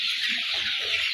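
Young brown cockerels, about a hundred birds at forty days old, keep up a constant, even clucking chorus in a poultry house.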